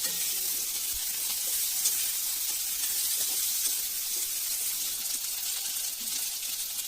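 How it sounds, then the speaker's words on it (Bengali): Chopped onions and green chillies fry in a pan with a steady, even sizzle and hiss, close and moderately quiet, continuous throughout with no talk. "দিয়ে দিলাম কেটে রাখা পেঁয়াজ কুচিগুলো তারপর কটা কাঁচা লঙ্কা দিয়ে কিছুক্ষণ ভালো করে ভেজে নিলাম"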